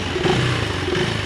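A KTM 390 Enduro R motorcycle engine idles along at slow speed with a steady low, slightly rough drone.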